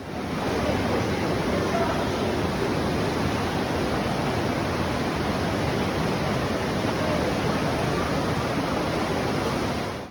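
Water roars through a narrow, smooth-walled limestone gorge in Switzerland, producing a loud, steady, echoing rush that stays constant with no break.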